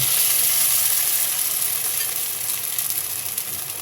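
Sago pearls fry in ghee in a pan for sago motichoor laddoo, a loud even sizzling hiss at first that eases slightly toward the end, close by with faint stirring, no speech.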